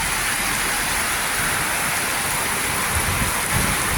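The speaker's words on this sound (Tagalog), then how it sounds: "Biglang buhos ng ulan, ang lakas." A heavy downpour of rain in the Philippines hisses steadily and loudly, rain drumming hard on surfaces with a low rumble underneath, no voices.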